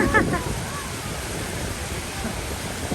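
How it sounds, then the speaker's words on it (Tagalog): Steady broadband roar of strong wind buffeting the microphone, with a brief burst of laughter near the start. "Ang lakas ng hangin."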